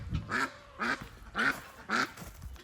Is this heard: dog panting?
no